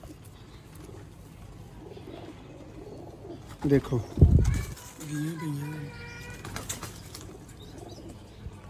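Sialkoti rooftop pigeons coo in short bursts with a brief flurry of wing flapping in the middle, close by, while a person speaks briefly over them.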